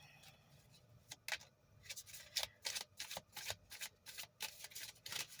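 Motivational cards are shuffled up close in a run of quick, soft riffling bursts with short pauses between them, quiet and with no talk.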